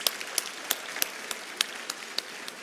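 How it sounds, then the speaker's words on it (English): Sparse, scattered clapping from a small group at a business policy luncheon, individual claps landing in an uneven rhythm over quiet room noise. "If you can, please give them a round of applause."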